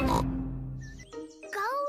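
A voice imitates a cartoon pig's snort for Peppa Pig: one short, rough snort, then spoken words.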